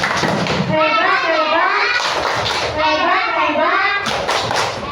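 Children in an Indonesian classroom perform a rhythmic clap chant for a group, voices chanting together over patterned hand claps, loud and close, continuing steadily for several seconds.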